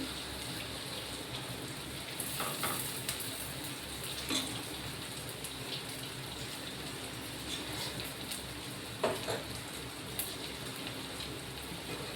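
Eggplant, fresh garden brinjal softened in oil, sizzles steadily in a pan on a gas stove, a dense continuous hiss with a few louder pops and crackles, close and alone without talk.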